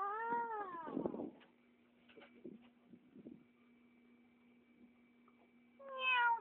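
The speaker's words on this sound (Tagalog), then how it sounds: "Meow! Sabi niya, meow!" A cat meows in a drawn-out, sliding call at the start and again at the end, loud and close, with quieter rustles and a steady faint hum in between.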